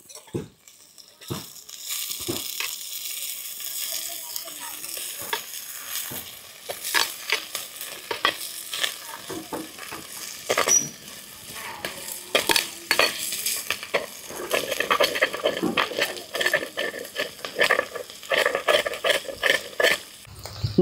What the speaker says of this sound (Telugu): అవన్నీ వేగిపోతున్నాయండి.